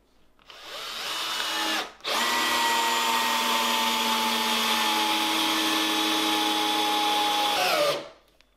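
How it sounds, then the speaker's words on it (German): A Bosch GSB 12V cordless impact drill in first gear drives a 6x100 screw with a continuous high whine. It pauses briefly after a short burst, then runs steadily for about six seconds before spinning down. "Wir haben also hier den GSB, den mit Schlagfunktion, haben hier auf Schrauben erster Gang und haben hier eine Schraube 6x100"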